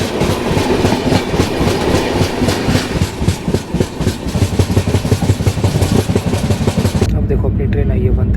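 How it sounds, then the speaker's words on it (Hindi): The Tatanagar–Ernakulam Express, hauled by a tricolour WAP-7 electric locomotive, thunders past very close, its wheels beating a rapid, loud clickety-clack over the rail joints, with a voice faintly heard under the roar. "टाटा नगर एर्नाकुलम एक्सप्रेस है भाई"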